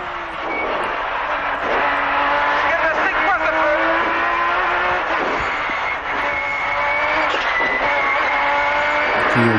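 A Porsche rally car races past during the Super Especial stage of the Rali de Machico in Madeira, its engine roaring steadily and loudly throughout with gear changes, while a commentator talks over it.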